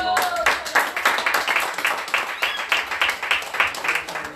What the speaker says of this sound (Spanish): Le dan aplauso al Señor